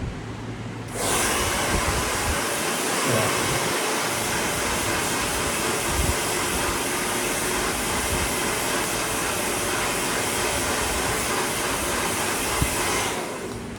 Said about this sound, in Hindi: ठंडा हम ड्रायर से भी कर सकते हैं